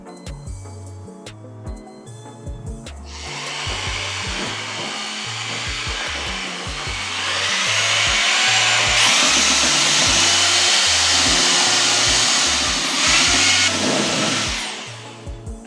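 Power drill mixing cove mortar with quartz, starting after a few seconds as a loud, steady whir and growing louder and rougher midway before stopping near the end, over a rhythmic background beat.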